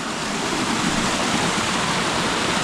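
A hidden waterfall on the Suha stream in Bohinj roars steadily and close by. It is a dense, unbroken rush of falling water with no talk over it.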